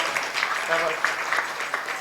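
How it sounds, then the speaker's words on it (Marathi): An audience at a devotional kirtan gathering claps together in a dense, steady patter of many hands, moderately loud and slightly distant in the hall. "टाळी वाजवा."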